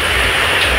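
Heavy rain pours steadily in Bhubaneswar during a thunderstorm, a dense continuous hiss with no breaks, close and loud, and no voices.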